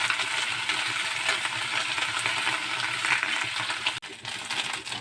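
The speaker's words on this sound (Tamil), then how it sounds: "ரெண்டு கைப்பிடி கருவேப்பிலை போட்டுக்கோங்க. இதையும் நல்லா வதக்கி விடுங்க." Curry leaves sauté in hot oil in a pan for chutney, giving a dense, steady crackling sizzle close up, with a short clatter near the end and no talk.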